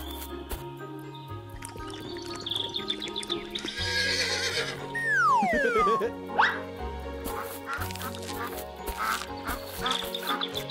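A cartoon horse gives a loud, rising and falling whinny in the middle of a busy scene, with playful music, quacking and other farmyard effects around it.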